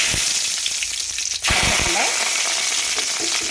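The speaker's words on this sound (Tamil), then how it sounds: "கடாய் வச்சு ஆயில் விட்டு கடுகு," Mustard seeds sizzle and crackle in hot oil in a kadai for tempering sambar, a loud close fry with sharp pops, briefly dipping before the sizzling resumes at full strength.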